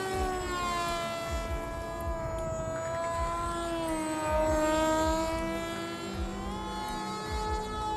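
An RC boat, the 3 Rebels M2, is driven by a 1534 electric motor. A loud, steady, high-pitched motor whine rises and falls in pitch over a continuous rushing water and hull noise, with no talk.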